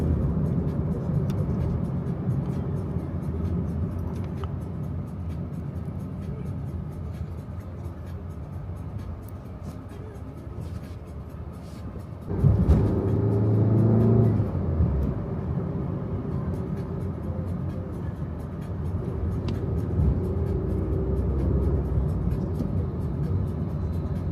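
Steady road and engine rumble from inside a taxi driving into the town of Playa del Carmen, a continuous low drone with a brief louder bump partway through.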